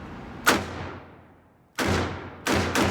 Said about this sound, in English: Now we're going to see how well she does at rapid fire.